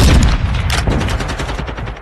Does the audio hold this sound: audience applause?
no